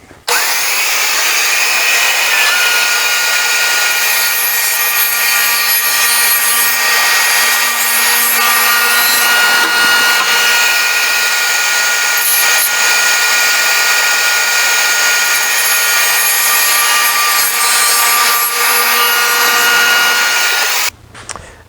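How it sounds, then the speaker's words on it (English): A saw cuts a dado into wood stock with a loud, steady whine that holds for about twenty seconds, then spins down abruptly with a short clatter at the end. "So I'm going to run all 5 of these that I have, all 6 of these through the saw"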